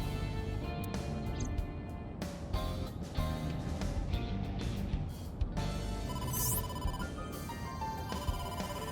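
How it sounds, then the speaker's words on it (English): Incoming phone call ringing in the video game AI: The Somnium Files, an electronic ringtone that repeats for about nine seconds with a steady pattern of sharp, rhythmic pulses. "Date, incoming call from the boss"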